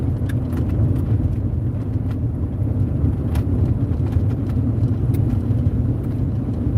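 Steady low road rumble and engine drone from a car being driven through the countryside, continuous and even throughout, with faint interior clicks above it and no talking.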